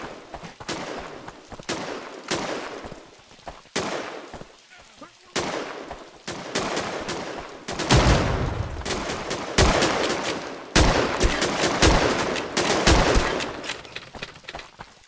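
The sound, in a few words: gunfire from the video game Riflemen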